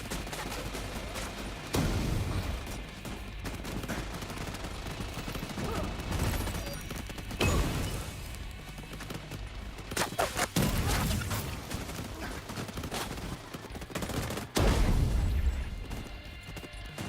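Gunfire from weapons in The Division 2 video game, dense bursts of rapid shots repeating throughout with a few louder cracks and booms, steady and close, with faint talk at times.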